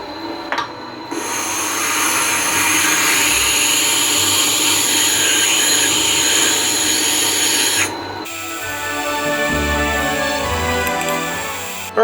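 A Tormek T4 sharpener regrinds a knife on a 1000 grit stone, giving a loud steady motor whine with grinding hiss that cuts out briefly near the end and then resumes, close up and alone.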